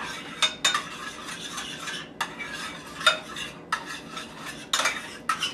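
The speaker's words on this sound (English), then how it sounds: "Now I'm just going to stir it around, turn this up a little bit" Apricot jam and brandy are stirred around in a pan, a spoon scraping and clinking in uneven repeated strokes against the metal, close and fairly loud, with a soft bubbling beneath and no talking.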